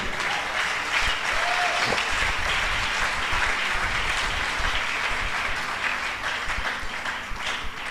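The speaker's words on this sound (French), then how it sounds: "Mettez-vous et acclamons pour le Seigneur" A church congregation applauds during worship, a dense steady roar of many hands clapping throughout, fairly loud and close, with a voice faintly audible at moments.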